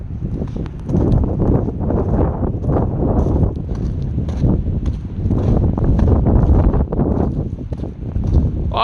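Gusty wind buffeting the microphone during a snowstorm hike, loud low rumbling blasts that rise and fall in uneven waves, close and continuous.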